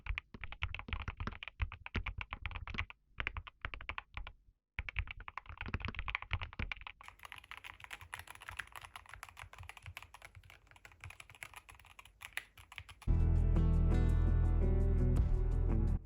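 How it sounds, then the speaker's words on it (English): Rapid, steady clicking of a Keychron Q6 HE mechanical keyboard's keys close up, with brief pauses between bursts, then loud music abruptly takes over near the end. "now we'll check out what the keyboard sounds like when you're using it"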